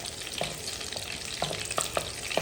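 Green chilies sizzling in hot oil in a pan for a Telugu sea fish curry, with a steady fry hiss broken by repeated scraping stirs of a spoon every half second or so, close and loud.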